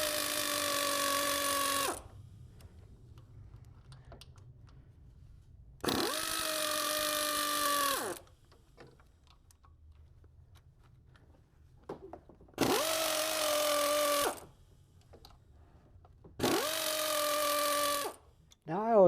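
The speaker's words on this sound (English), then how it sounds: "Step 4, loosen the 4 coolant pump pulley bolts." Power tool loosening the four coolant pump pulley bolts on a 2005 Lincoln Aviator, in four loud whirring bursts with pauses between them.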